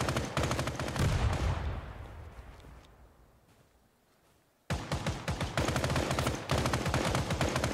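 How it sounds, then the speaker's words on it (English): Dense automatic gunfire rattles loudly in the tactical shooter Ground Branch, a sustained burst that fades into a near-silent lull before another sharp, close volley of rapid shots resumes. "They're shooting at me."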